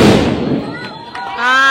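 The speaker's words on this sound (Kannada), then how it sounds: "ಏಕ್ ಬಾಂಬ್ ಫೂಟ." A sharp firecracker burst rings out at the start of a Dussehra gathering, followed by crackling and a fading echo as voices rise in the background.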